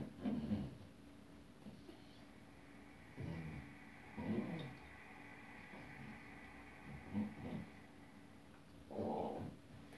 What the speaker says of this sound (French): c'est mon chien qui est en train de faire sa toilette.